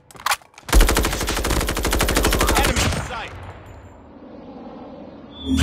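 A Groza rifle in Call of Duty Mobile fires one long, rapid automatic burst of evenly spaced shots at close range, then stops and leaves a fading ringing tail.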